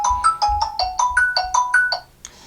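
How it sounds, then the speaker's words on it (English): A ringtone on a Xiaomi Redmi Note 8 phone: a bright, bouncy electronic melody of quick repeated notes over a light beat, playing clearly for about two seconds before cutting off. "that's my favorite ringtone for the Mi phones"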